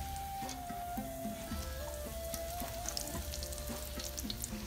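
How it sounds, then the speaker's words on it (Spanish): Steady crackling sizzle of torrijas frying in hot oil, continuous and close, with occasional light pops and faint clinks under it. "Lo freímos así hasta que esté doradito."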